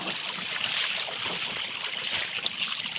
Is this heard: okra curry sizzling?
no